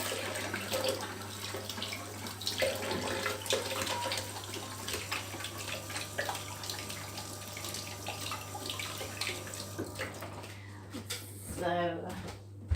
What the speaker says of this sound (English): I'm just going to wash my hands or rinse them off a bit.